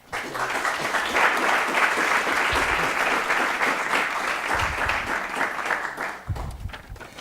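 An auditorium audience applauds to welcome a speaker, a loud, dense, sustained clapping that starts abruptly and stays strong, with brief low thumps from the stage area in between.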